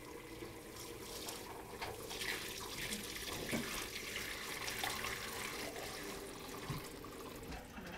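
Milk curds and whey are poured through layered cheesecloth, making a steady, soft watery rush that runs evenly throughout at low volume.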